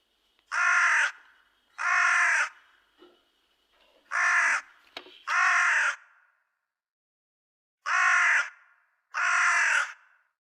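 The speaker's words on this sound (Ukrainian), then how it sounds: "Вони сиділи на дереві, голосно каркали та перелітали з гілочки на гілочку." Crows caw loudly in three pairs of harsh, drawn-out calls separated by short pauses, with a faint rustle between them against an otherwise quiet background.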